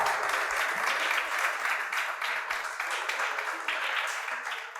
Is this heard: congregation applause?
yes